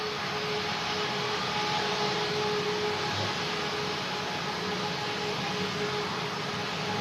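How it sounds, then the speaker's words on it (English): A loud, steady roar of broadband noise from an airliner braking after landing, with a faint constant tone, unchanging throughout. "You can hear the brakes being used to control the speed of the plane."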